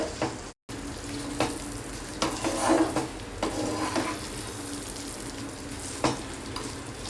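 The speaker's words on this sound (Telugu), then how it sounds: "నెయ్యి వేసిన తర్వాత బాగా కలపండి." A sweet mixture sizzles in a pan with ghee and oil while being stirred, a continuous frying hiss broken by scraping strokes and occasional clinks of the spoon against the pan.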